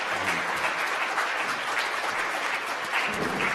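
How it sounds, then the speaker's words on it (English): Warm applause from a conference audience after a Q&A session in New York, a steady crowd of hands clapping at moderate volume from start to finish. "Let's give him a warm round of applause."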